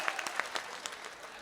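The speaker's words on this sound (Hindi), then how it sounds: "तालियां तालियां।" Scattered, fairly faint clapping from an audience at a mushaira poetry gathering, a handful of separate claps over a short moment.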